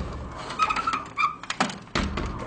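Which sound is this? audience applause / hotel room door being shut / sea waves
hotel room door being shut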